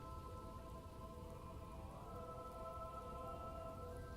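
Steady, faint rain falling, a soft continuous patter with a low hum underneath and no voices.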